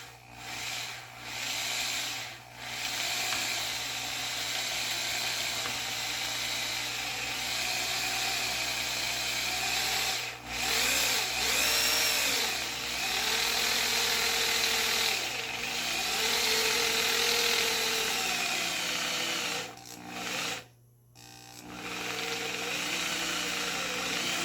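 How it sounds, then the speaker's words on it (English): A drill bit grinds steadily through a cabinet scraper in a workshop, making a long, loud whine that wavers in pitch and drops out briefly a few times. "I'm going to drill"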